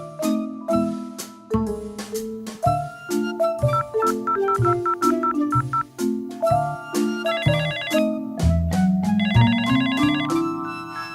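A phone ringtone plays a loud, continuous electronic melody of stepped tones with bright chiming runs, repeating for about eleven seconds with no voices.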